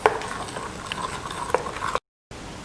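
A spoon stirs baking soda into a semolina flour batter in a mixing bowl, giving soft, steady wet scraping and light clinks up close, with a brief break near the end.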